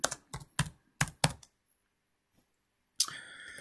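Several quick keyboard clicks in an uneven run, then a pause, followed by a final keystroke and a faint electronic tone.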